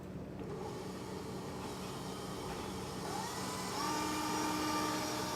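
An electric mixer whips egg whites in a bowl, its steady motor whir climbing in pitch and loudness as the speed is stepped up from low to high, alone and close.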